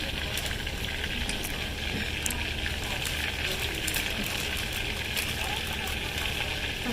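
Food frying in a pan at a cabin, a constant crackling sizzle with scattered pops that holds steady at moderate loudness, with some speech mixed in.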